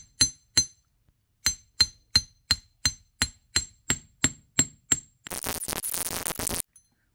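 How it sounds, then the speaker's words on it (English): A hammer striking wire necklace pieces on a metal bench block: about a dozen sharp, ringing metallic taps at a steady pace, then a short burst of harsh rattling scrape before silence. "we will hammer these pieces."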